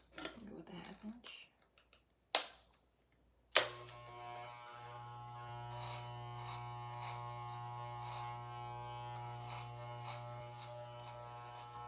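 Electric hair clippers with a 1/2 inch guard cutting hair, a steady close buzz with harmonic hum that starts after a few short bursts and continues evenly, with people talking softly near the start.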